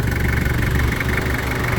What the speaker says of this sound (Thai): นี่นะฮะเครื่องยนต์ 5L นะครับ